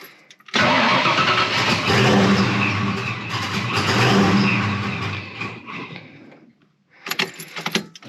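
A Saleen Foxbody Mustang with a small-block Ford 331 stroker V8 cranks and fires cold, then roars loudly and steadily for several seconds before cutting off briefly and catching again with short, uneven blips.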